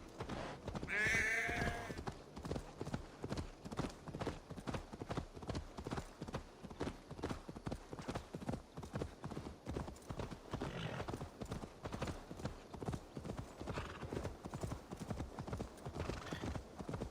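Steady, rapid hoofbeats clip-clop throughout, with a horse's whinny near the start; continuous rhythmic trotting, fairly close and prominent, in the video game Assassin's Creed Valhalla.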